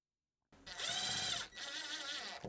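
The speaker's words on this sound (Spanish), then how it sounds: "Y ahora tomas tu destornillador." Power screwdriver tightening screws on a Kwikset deadbolt during door lock installation, two close whirring bursts with a brief dip between them and no talking.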